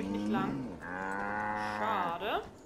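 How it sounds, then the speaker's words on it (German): A cow in the video game Assassin's Creed Valhalla lets out a loud, drawn-out moo that swells and bends in pitch near its end, close and clear with nothing else over it. "Da war gerade irgendwo eine Kuh."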